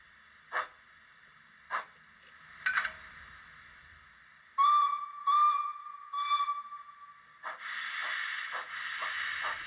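A sound-fitted Rapido Hunslet model locomotive gives short steam chuffs, a sustained shrill whistle blast with a few repeats, then a steady hiss of steam, all close and clear with no talking.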